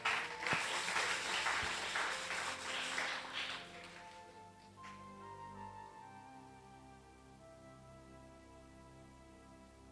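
A church congregation bursts into applause during a sermon for about four seconds. The clapping is dense and moderately loud, then fades into a quiet tail with a soft sustained tone.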